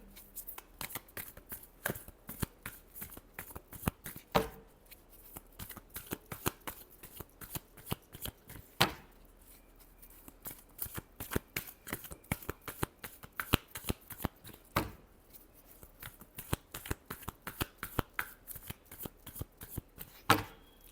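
Tarot cards being shuffled by hand, with rapid repeated riffling bursts and soft taps recurring over about twenty seconds, close and quiet with no talk.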